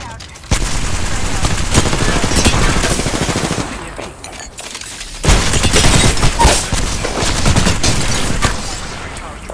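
Dense gunfire from the Apex Legends game on Xbox One, loud rapid bursts of shots and booms that continue almost unbroken, with a short lull before a second heavy barrage.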